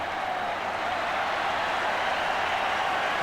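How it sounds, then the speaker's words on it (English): Crowd cheering at a 1991 rugby league match between Canberra and Brisbane, a steady broad roar from a large stadium audience sustained throughout without a break. "Cheer from the crowd."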